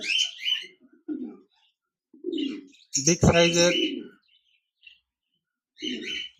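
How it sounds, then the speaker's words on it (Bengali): A caged pair of diamond doves at a bird farm gives short soft coos in separate bursts, close and fairly quiet, with a person speaking between the calls. "এখানে দেখতে পাচ্ছেন এক জোড়া ডায়মন্ড ডাব ঘুঘু পাখি রয়েছে"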